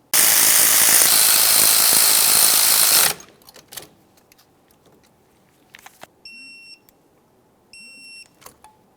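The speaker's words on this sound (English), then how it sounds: "go ahead and torque each of them to 26 foot-pounds" Bolts on a 2002-2005 Ford Explorer wheel hub driven in by a loud power tool for about three seconds, followed by quiet scattered clicks and a few short tonal beeps.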